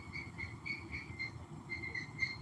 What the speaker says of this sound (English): Oh, someone pushing the cart. That's what it is.